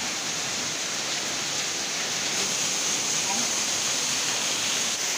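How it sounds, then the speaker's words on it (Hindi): Water falling from above at a Shiva jyotirlinga shrine, a steady, fairly loud hiss and splash that fills the whole stretch without a break. "शिव जी का ऊपर से पानी गिर रहा है"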